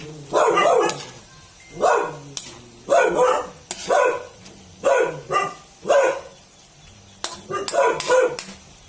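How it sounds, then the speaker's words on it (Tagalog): A dog barks repeatedly in short bursts in a home kitchen, fairly close and loud, with brief pauses between barks and a few higher yips. "Ingay ng aking alagang aso."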